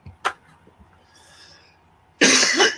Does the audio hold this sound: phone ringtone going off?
no